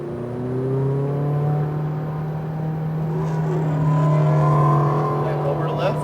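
McLaren 570 on a race track accelerating to pass another car, its engine a steady loud drone rising in pitch, with an instructor's voice talking over it.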